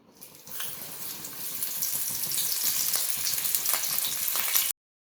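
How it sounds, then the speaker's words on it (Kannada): Bangda mackerel coated in fine chiroti semolina fries in hot oil, a dense, close, continuous crackling sizzle that swells slightly and then cuts off abruptly, with no voices. "ಚಿರೋಟಿ ರವೆಲಿ ಮೀನನ್ನು ಅದ್ದಿ ಕಾದಿರೋ ಎಣ್ಣೆಯಲ್ಲಿ ಫ್ರೈ ಮಾಡೋಣ"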